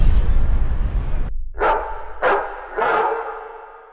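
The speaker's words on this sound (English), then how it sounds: "to create this kind of slightly spooky dog bark, which is going to sort of take the place of the original file" A processed, slightly spooky dog bark sound effect is played in a music production program: a loud noisy stretch cuts off, then three separate echoing barks follow, each fading out.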